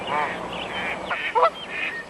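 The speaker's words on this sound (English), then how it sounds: "These are Canada geese." Canada geese honk in a short burst of nasal calls, close and fairly loud over faint background noise.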